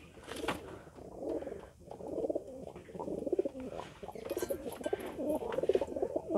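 Pigeons in a breeding loft give soft, repeated cooing calls close by, with a few faint chirps and rustles between the low coos.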